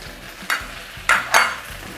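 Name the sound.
wide rice noodles stir-frying in a hot wok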